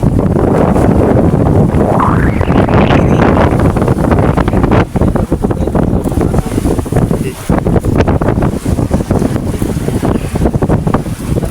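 Strong wind roars steadily across the microphone, loud and buffeting throughout, with gusty rumbling and no voices.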